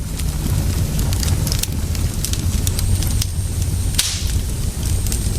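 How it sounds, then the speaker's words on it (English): An open fire crackles steadily with sharp snaps and pops over a low roar, close and continuous, one louder burst near the end. "the crackling noise of an open fire"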